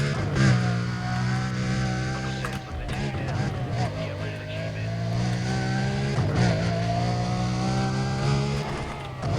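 A car is driven in the video game Need for Speed: Undercover while fleeing police, its engine humming steadily with repeated revving swells at a moderate level, and a voice speaks over parts of it.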